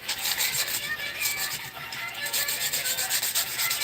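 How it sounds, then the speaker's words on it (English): Sandpaper rubs over a Dollar Tree craft item, a steady, close, continuous scratchy sanding with rhythmic strokes throughout. "you definitely want to use sandpaper to smooth it out"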